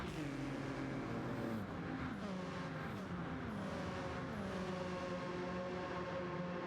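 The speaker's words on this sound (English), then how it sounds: "Just great watching these racing cars. Absolutely pushing it." Racing cars speed around the Nürburgring Nordschleife during a 24-hour race, engines droning and sweeping down in pitch as several pass in turn, heard at a distance and fairly faint.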